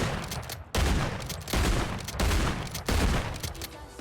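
Cast-Off 762 rifle fire in MW3 Warzone: four loud, punchy shot bursts at roughly even intervals, each ringing briefly before the next.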